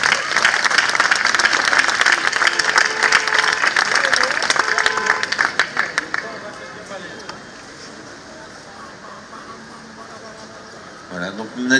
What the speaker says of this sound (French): Alors, on peut l'applaudir aussi.